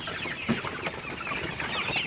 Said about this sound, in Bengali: আপনারা দেখতে পাচ্ছেন মুরগিগুলো আসলে পাগল হয়ে গেছে ভুট্টা দিলে আসলে খুবই ভালোভাবে ভুট্টাগুলো খায়